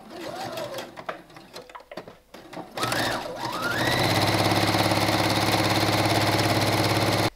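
A sewing machine stitching a cushion cover starts up after some fabric handling and then runs with a steady, fast mechanical whir and needle clatter, close and continuous.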